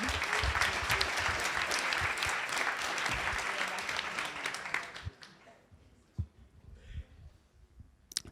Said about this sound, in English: So a lot of applause for Youshould also,